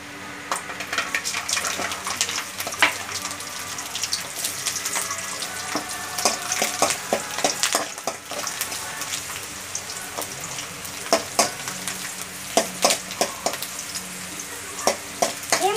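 Garlic sizzles in a pan under a continuous frying hiss, with frequent sharp scrapes and clacks of a spoon stirring it, close and fairly quiet, no speech.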